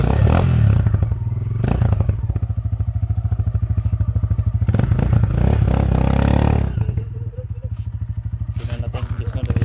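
A motorcycle engine runs steadily and close by at Balabaga, its low rumble continuous with clattering, scraping knocks, while people talk loudly over it throughout.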